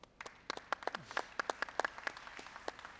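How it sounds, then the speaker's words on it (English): A small audience at a business forum in Dubai claps, irregular sharp hand claps scattered through the whole stretch, moderately close and fairly sparse. "Ashish Thakkar, round of applause, please."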